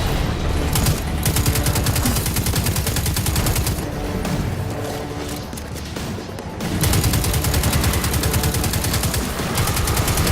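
Sustained automatic weapon fire from a Destiny 2 rifle blazes loudly in rapid, steady bursts, briefly easing midway before resuming at full intensity.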